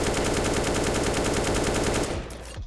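An AK rifle fires rapid full-auto bursts in the game CS:GO, loud and close, a continuous rattling stream that cuts off abruptly near the end.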